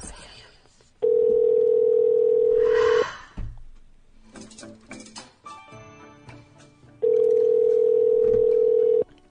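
A steady telephone dial tone comes through a handset for a few seconds, then keypad dialing beeps and line clicks, then the steady tone returns, heard close and loud.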